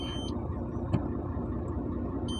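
A UD 370 hp truck with a 12-speed gearbox, heard from the cab while shifting up to seventh: a steady, loud mid-range engine drone with one brief click partway through, and no voices.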